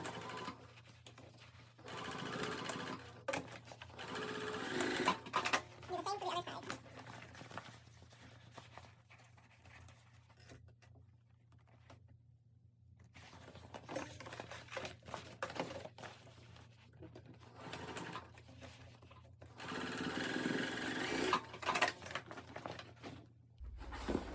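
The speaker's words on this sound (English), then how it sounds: "And then just sew across the bottoms." Sewing machine stitching across the bottom of a fabric tote bag, a steady quiet mechanical whir running in several long passes with brief pauses between them, no voices.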